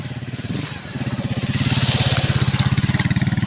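A motorcycle carrying charcoal chugging steadily and growing louder, its rapid pulsing rumble building as it rides past close by.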